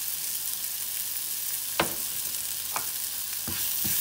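Onions sautéing in a pan with turmeric sizzle in a steady close hiss, broken by a few sharp knocks of a spoon against the pan.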